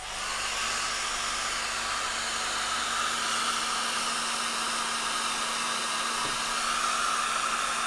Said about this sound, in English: So excuse the sound of my hairdryer here.